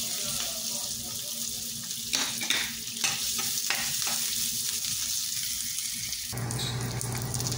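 Garlic and onions sizzle steadily in a pan, with a series of sharp stirring scrapes over the hiss and a brief change near the end, close and moderately quiet.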